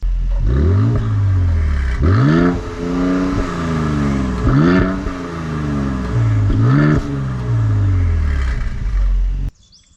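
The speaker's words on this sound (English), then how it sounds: "You've got your exhaust, active exhaust button there, so you can change the sound of the exhaust" A 2019 Mercedes-Benz GLC 43 AMG revs repeatedly through its active exhaust with a deep, throaty roar, rising and falling in several bursts, loud and close, then stops suddenly.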